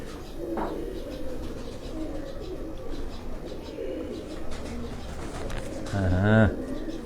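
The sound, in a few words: pigeons cooing on a rooftop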